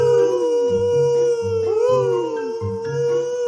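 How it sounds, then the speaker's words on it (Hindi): Foxes in an animated children's jungle story let out loud, close, wavering howls, several overlapping calls rising and falling in pitch. "तभी कुछ लोमड़ी चिल्लाने लगा।"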